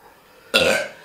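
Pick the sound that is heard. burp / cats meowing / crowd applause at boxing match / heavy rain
burp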